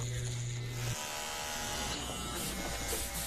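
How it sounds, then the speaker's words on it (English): Electric hair clippers buzzing steadily and up close in an old-fashioned barbershop, with a faint voice in the background. "The sounds of the Roosevelt barbershop have stayed the same through the years."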